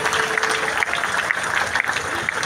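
Concert audience applauding at a live Greek music performance on Syros, a dense, steady roar of clapping hands that fills the whole stretch, loud and close.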